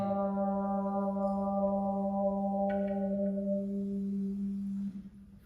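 A steady sung tone holding a single G, its upper overtones gradually filtered away until a near-pure note remains, then cutting off.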